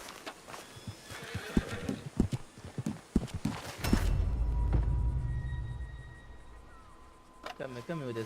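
A horse in the Deadlock video game gives a neigh amid clip-clopping hooves and game effects, with a low rumble following, and a player talks over it.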